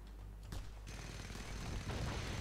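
Machine gun fire in Just Cause 2, a steady stream of rapid shots with a sharp blast near the start, rattling on continuously at moderate level without any speech.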